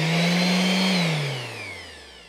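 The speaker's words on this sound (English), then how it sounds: "I'm just screwing one onto the back" A power driver whines loudly and steadily as it drives a screw through a 45-degree wooden offcut into a tool holder, then its pitch drops as the motor slows and stops.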